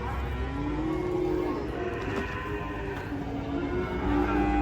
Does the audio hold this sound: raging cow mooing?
yes